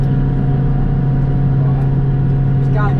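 A forage chopper running while chopping first-cutting grass, with a loud, steady low engine drone and rumble throughout and a brief higher mechanical whine near the end.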